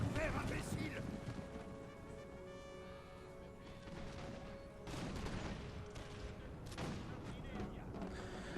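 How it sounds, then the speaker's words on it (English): Musket volleys from foot guards and Silesian Schützen in the Napoleon Total War game, crackling bursts of gunfire and distant booms over a battle din, with a voice talking through it. "he has his foot guards and his Silesian Schützen firing at my poor retreating Swiss foot"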